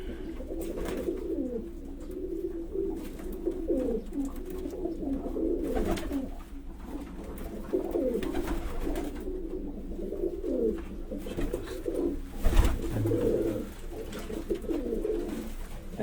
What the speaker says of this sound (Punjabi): ਰਾਜਾ ਸਾਹਿਬ ਹੋਰਾਂ ਦੇ ਘਰ ਦਾ ਬਟੇਰਾ ਕਬੂਤਰ ਜੀ।